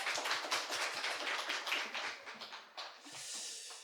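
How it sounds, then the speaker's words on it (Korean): A church congregation claps at a Korean service, a dense patter of many hands that fades slightly, then a softer rushing swell near the end. "평소에는 박수 잘 안 쳐주는데 오늘 손님들 왔다고 박수를 많이 쳐주니 좋습니다"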